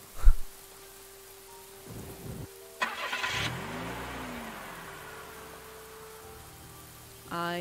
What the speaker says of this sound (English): Very fancy with the raining function or something like that.